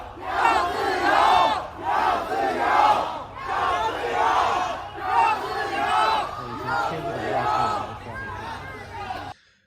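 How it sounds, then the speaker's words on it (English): A large protest crowd in China chants a slogan in rhythmic bursts, many voices shouting in unison about every one and a half seconds, loud and close, with brief gaps between repetitions. "We want freedom, they chant."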